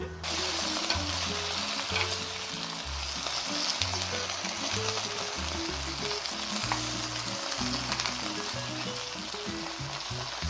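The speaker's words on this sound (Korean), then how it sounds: "조리듯이 고추가 익을 때까지 4분 정도 볶아주시면 돼요" Shishito peppers stir-frying in soy sauce and soup soy sauce with a splash of water, a loud continuous sizzle with steady stirring and scraping in the pan throughout, no voices.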